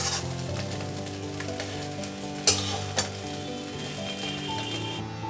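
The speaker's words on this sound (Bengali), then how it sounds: "সয়াবিনটা খুব ভালো করে ভেজে নিতে হবে" Soya chunks frying in oil in a pan, a steady close sizzle with a couple of sharp utensil clinks as they are stirred, no talking.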